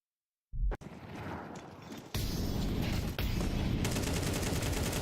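Dense automatic gunfire from the Counter-Strike 2 video game, heard during a tournament match broadcast. A short loud burst is followed by a continuous, rapid, loud stream of shots that fills the rest.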